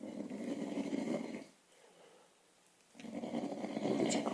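A bear snores in two long, deep, rasping breaths separated by a pause of near silence, steady and fairly close, with no voices.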